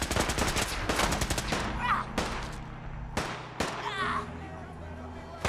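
Gunfire in the video game Fallout 4 rings out as several sharp shots and short bursts over a low droning background, with a voice heard among them.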